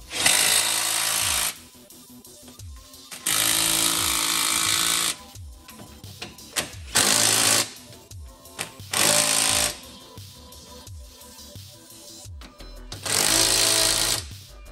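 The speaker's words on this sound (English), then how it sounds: "Using the same 18mm socket, you can go ahead and tighten these bolts as much as you can." Repeated bursts from a power tool driving home skid plate bolts with an 18mm socket, each a loud, close rattling whir lasting one to two seconds, separated by short pauses and clicks.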